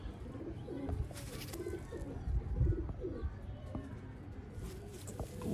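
Rooftop pigeon loft in Sialkot where fancy breeding pigeons, including a golden teddy type, give soft low rhythmic coos repeatedly under steady background noise, with a voice talking intermittently nearby.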